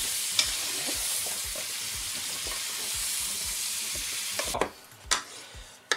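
Leek and vegetables sauté in butter in a pot with a bright, even sizzle and rhythmic stirring scrapes, then the frying noise cuts out near the end, leaving a few clanks of the utensil and lid.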